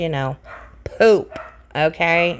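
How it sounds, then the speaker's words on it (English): A puppy indoors lets out several sharp, high yips and barks in quick bursts, loud and close, alternating with a person talking nearby. "Sorry about that puppy barking."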